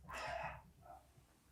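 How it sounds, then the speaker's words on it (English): A single faint dog bark in the distance, one short sharp yelp followed by a quieter echoing tail, with no talk over it. "Dogs be barking."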